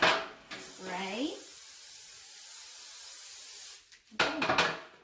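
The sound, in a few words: spraying pans with a can of cooking spray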